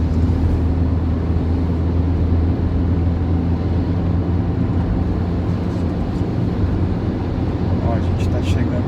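Steady engine drone and road rumble inside a Fiat Punto ELX with Skydome sunroof, revving near 3000 RPM, loud and constant throughout with a low-pitched hum.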